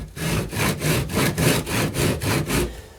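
A hand saw rasps back and forth through cork roadbed in about ten even, rhythmic strokes, close and clear.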